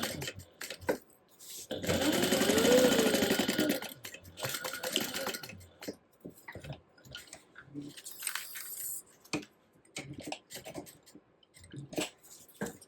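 A sewing machine bastes down the edges of a crossbody bag, running in one loud, sustained burst of a couple of seconds, followed by quieter intermittent clicks, handling noises and brief shorter whirs.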